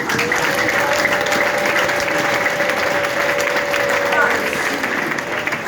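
A church congregation applauds in a sustained, dense wave of clapping that fills the room, continuing steadily throughout with a voice carrying over the applause.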